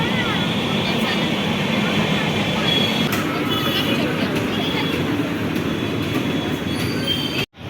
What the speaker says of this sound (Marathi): बघा लहान पोरांची ट्रेन आहे खेळण्यासाठी